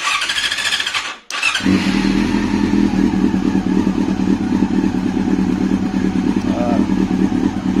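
Motorcycle engine fired up during a charging-circuit check after fitting a new voltage regulator: a short cranking burst, a brief gap, then a loud steady idle that runs on, with a voice talking over it.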